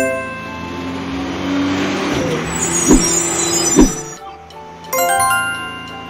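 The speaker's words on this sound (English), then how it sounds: "Garbage truck." A garbage truck engine rumbles loud and close, then its air brakes let out two sharp hisses before the engine sound drops and shifts, with no talk.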